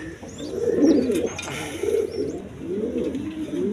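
A pair of pigeons cooing nearby in repeated soft, throaty rolls, steady over a faint background with a few higher chirps.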